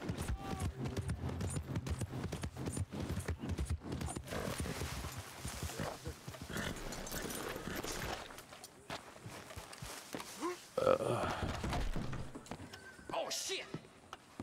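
Horse hooves clip-clop along in Red Dead Redemption 2, a steady rhythmic patter of a ridden horse that runs beneath near-constant talking, with a brief whinny-like cry partway through.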